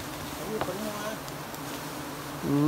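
Bees flying around a hive during an October honey hunt in northern Vietnam, a close, steady buzzing drone. People talk intermittently over it.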